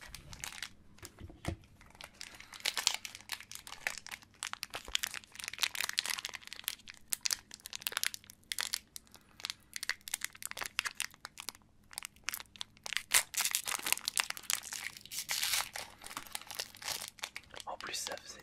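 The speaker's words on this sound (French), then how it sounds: "un ASMR d'ouverture de cartes" BattleTube trading card booster packs are torn open and handled, giving close, dense foil crinkling and crackling that runs steadily throughout with brief tearing bursts.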